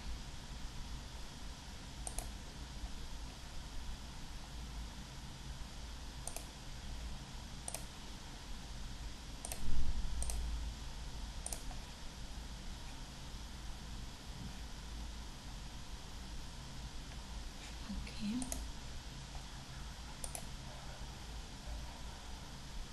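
Sparse, sharp computer mouse clicks sound at irregular intervals over a low steady background hiss, with no voices.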